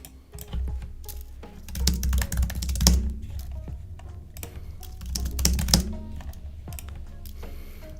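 Rapid keystrokes on a computer keyboard, close and uneven, with bursts of dense clicking and a few heavier thumps between lighter stretches.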